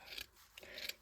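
Scissors snip through a piece of fleece fabric in two quick, close cuts, each a short crisp rasp with a brief pause between.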